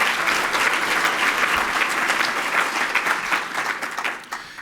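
A large crowd at a school district state-of-the-schools address applauds in a thick, steady wash of clapping that lasts throughout and fades only slightly near the end.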